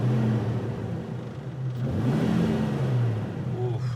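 A Jeep Wrangler engine rumbles at idle nearby, then revs once, its pitch swelling and falling back before settling into a steady low drone, with no one talking.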